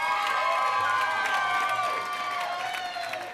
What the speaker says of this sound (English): Ash brought a cheering section.